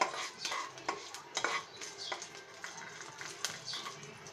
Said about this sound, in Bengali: এখন আমি খুব ভালো করে নেড়ে দিচ্ছি